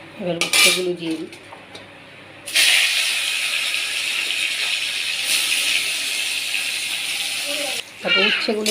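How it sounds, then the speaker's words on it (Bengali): Bitter gourd hits hot oil in a pan with a sudden loud sizzle that hisses steadily for several seconds after a clink of utensils, while a voice talks briefly before and after. "এবার উচ্ছেগুলো দিয়ে দিই"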